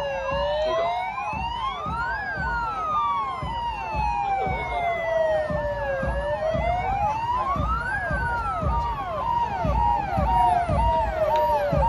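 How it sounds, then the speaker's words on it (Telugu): A police vehicle in a Republic Day parade sounds its siren loud and near, with a wailing tone that rises and falls in long sweeps over a faster warble, while a voice talks beneath it. "పోలీసు వారి వాహనం."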